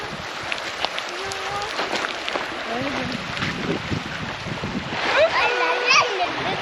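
People bathing and splashing in a river on a morning swim, with voices chatting and calling throughout and a burst of closer splashing near the end.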